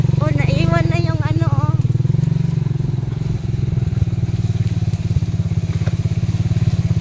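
A motorcycle rides along a muddy farm-to-market road with a steady, close, rhythmic engine putter throughout. A voice calls out briefly near the start.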